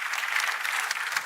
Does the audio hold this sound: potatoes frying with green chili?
no